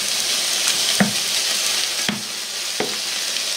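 Liver and onions frying in a pan give a steady close sizzle, broken by three sharp scrapes or stirs spaced about a second apart, with no talking.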